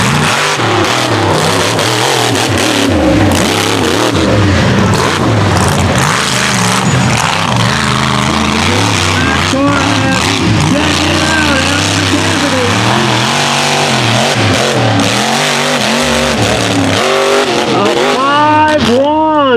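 Mega truck roaring loudly through a mud racing course in West Virginia, engine revving and shifting continuously up close, with a crowd or announcer voice mixed faintly underneath.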